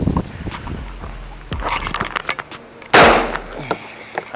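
Remington V3 TAC-13 shotgun with a 13-inch barrel firing at clay targets outdoors, a few sharp, loud blasts spaced apart, the final one the most powerful, with brief echoes trailing behind.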